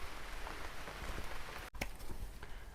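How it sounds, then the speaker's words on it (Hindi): Steady rain patters on a riverside forest camp where an elderly sage cooks thick barley and chickpea flatbreads over a fire, a continuous broadband hiss with scattered closer drop hits. "बारिश होने लगी।"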